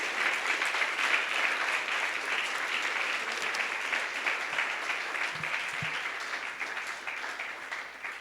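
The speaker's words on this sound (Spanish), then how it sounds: "Dale un aplauso al Señor." Sustained applause from a large crowd, dense and steady clapping that carries on for several seconds without easing.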